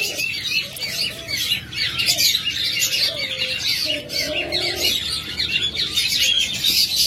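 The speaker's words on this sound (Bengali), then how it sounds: "আমার কাছে অনেক শীতল ঘুঘু রয়েছে" Diamond doves and other small cage birds call and chirp in a crowded aviary, with a steady chatter of tweets and squawks and a few clearer, drawn-out coos standing out near the middle.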